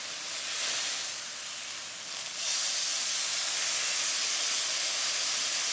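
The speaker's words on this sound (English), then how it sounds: "I'm going to grill the chicken breast with no lid." Chicken breast sizzles on the non-stick grill plate of an Aroma ASP-137 3-quart Super Pot, cooking without a lid; a steady bright hissing fry, near and continuous, getting louder partway through.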